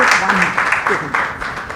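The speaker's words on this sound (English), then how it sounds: "So just a round of applause for IIM Ahmedabad and the wonderful place it is." Audience at IIM Ahmedabad giving a short burst of applause at a leadership talk, a dense patter of clapping heard close with voices mixed in.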